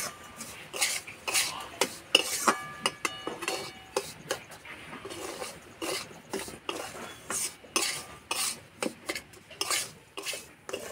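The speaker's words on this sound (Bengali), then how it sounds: "দুধটা এভাবে অল্প অল্প দেবো আর নাড়বো।" A spoon scrapes and stirs a mixture of milk and powdered milk in a pot, made while preparing a semolina and milk cake, in a quick run of rhythmic scrapes and clinks with no talking.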